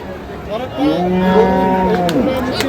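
A Sahiwal bull at a cattle market lets out one long, loud, close moo that rises and sustains for a couple of seconds over market background noise.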